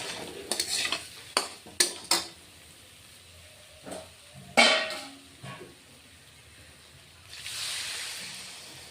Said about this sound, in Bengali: কাশ্মীর লঙ্কার গুঁড়ো ছোট চামচের এক চামচ দিয়ে দিচ্ছি দিয়ে এখন আমি কষিয়ে নেব